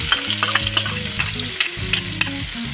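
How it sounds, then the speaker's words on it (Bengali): Chopped onions sizzling steadily in a pan of hot oil, with a close, constant frying hiss, crackling pops and some low stirring clatter, no voices. "পেঁয়াজগুলো ভেজে নিচ্ছি।"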